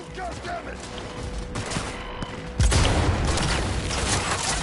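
Sniper rifle fire in Cyberpunk 2077, with a sharp, heavy shot near the middle followed by a sustained rumbling burst and crackle, over game background noise.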